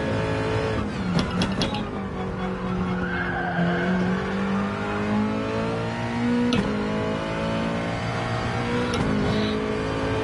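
Race car engine in a racing video game, loud and continuous, climbing and falling in pitch through repeated gear shifts, with brief sharp tire squeals at a few points.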